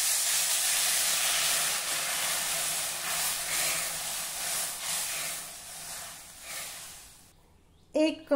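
Water poured into hot spiced masala of turmeric, coriander, cumin and red chilli powder for a Vidarbha Saoji patodi curry, giving a loud, steady hiss of sizzling steam that fades before a brief clatter at the end.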